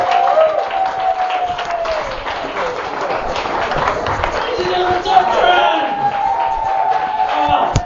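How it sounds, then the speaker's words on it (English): An audience at a comedy show claps and applauds continuously, with a voice talking over the clapping throughout. "Big applause."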